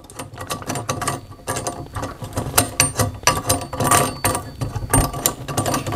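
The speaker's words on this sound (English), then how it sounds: "I'll hold it and then I'll go ahead and tighten it" A monitor mount being tightened gives rapid, close ratcheting clicks in quick repeated bursts, with mechanical rattles between them.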